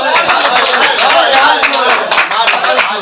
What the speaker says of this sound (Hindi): ताली मारो